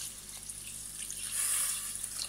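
Water pours into a pressure cooker holding tripe for curry, a soft hissing trickle that swells briefly in the middle, faint and close, with no talk.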